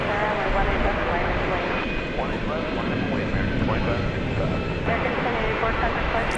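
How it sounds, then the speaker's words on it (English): A UPS Airbus A300 jet sits after pushback at DFW Airport, its engines giving off a loud, steady broadband roar with a faint whine, while people talk over it. "We have another UPS plane now pushed back. It's an Airbus A306, or A300, sorry."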